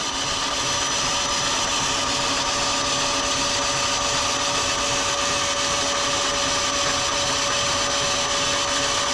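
A lathe runs a center drill into steel bar stock in a home workshop, giving a continuous, steady whirring hum with a faint tonal whine, moderately quiet and uninterrupted with no talking.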